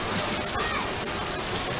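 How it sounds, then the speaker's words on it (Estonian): Heavy rain falling harder in Varanasi, a dense, steady hiss of drops on surfaces with scattered louder splashes, continuous and close. "Nüüd hakkas juba kõvemini sadama."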